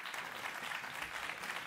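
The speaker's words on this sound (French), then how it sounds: "merci pour vos applaudissements" An audience at a conference session on innovation and new technologies in Normandy applauds, a steady, even wash of many hands clapping at moderate volume without pause.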